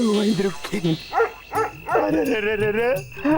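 Dogs in a housing society bark and yip in short bursts at a close distance, with brief whimpering tones mixed in, during a comedy scene.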